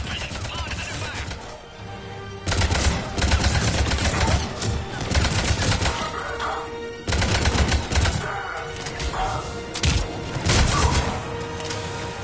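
Sustained automatic gunfire in Mass Effect 3, loud rapid bursts in two long volleys separated by short pauses, over a background of game music and ambience.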